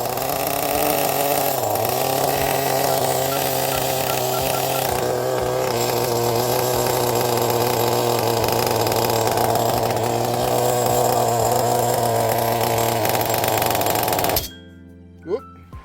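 CEN Genesis chainsaw with a new engine, running steadily at a high idle during break-in, loud and close with a constant buzzing drone that cuts off abruptly near the end, followed by brief quiet clicks.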